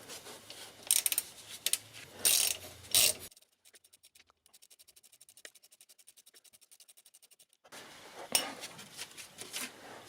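A ratchet tightens the alternator bolt on a 2007 Peugeot Partner with the 1.6 HDi engine, a quick run of close, even clicks in the middle. Louder metallic scraping and clatter of tools comes before and after.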